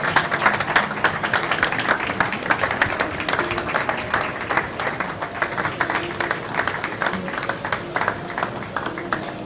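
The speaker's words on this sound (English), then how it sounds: "Big applause, please," Sustained applause from a conference audience at a European 5G event honoring an award for Lisbon, steady dense clapping throughout with a faint voice beneath.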